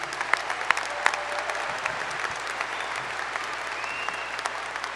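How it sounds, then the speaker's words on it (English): Sustained applause from a large crowd at a high school graduation ceremony honoring cum laude graduates, steady dense clapping with a few sharper claps standing out, lasting throughout. "A nice round of applause for all of our cum laude students."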